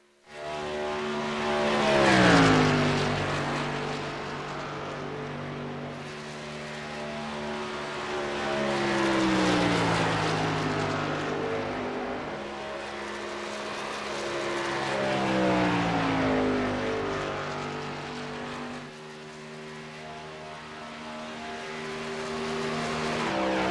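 NASCAR truck engine in the iRacing video game at Chicagoland, a sustained simulated engine roar rising and falling in pitch through repeated gear and throttle sweeps, loud and continuous with no talk over it.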